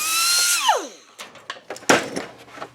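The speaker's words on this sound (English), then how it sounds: "So I cut about 1/4 of an inch back on either side of the hood." A power tool whines down from high speed as it cuts into a steel hood panel on a 1934 Ford hot rod, followed by a series of sharp metallic bursts and scrapes close to the microphone.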